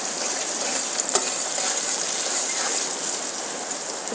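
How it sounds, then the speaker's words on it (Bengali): Chopped onion goes into hot oil already frying with cardamom, cinnamon and bay leaf, giving a steady, close, bright sizzle with one brief clatter partway through. "তারপরে দিয়ে দেব পেঁয়াজ কুচি।"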